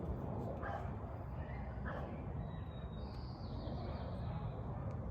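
A dog whimpers and gives a few short yips at moderate distance, over a loud, rumbling background noise.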